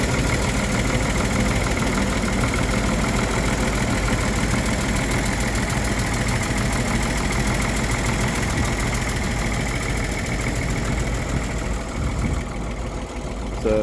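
A 1954 GMC 250 one-ton truck engine idles steadily and close up, with a dense, even rumble running throughout and no talk over it.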